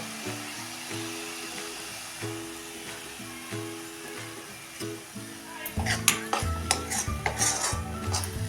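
Milk powder is stirred into carrot halwa in a pan, with a soft rhythmic scraping at first, then louder sizzling, clinks and spoon scrapes against the pan toward the end.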